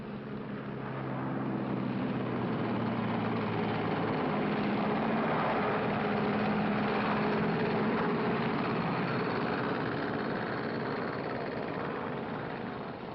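A propeller or jet airliner engine drones steadily as the plane taxis before takeoff, a loud continuous hum with low tonal bands that shift in pitch partway through, no voices over it.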